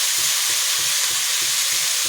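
Potatoes and onions fry in a pan with a loud, continuous sizzle, broken by regular soft scrapes of stirring, and no one talks.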